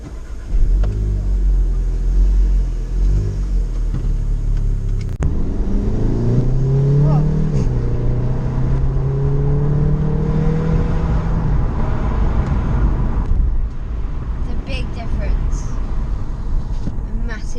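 A 300-horsepower Volkswagen Golf engine cranks and catches, then idles and revs in a deep, loud rumble with rising and falling pitch, while a person talks over it.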